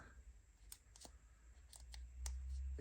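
A few sharp, separate snips of scissors cutting model kit parts for a Star Wars Millennium Falcon, spaced irregularly over a quiet background with a low rumble.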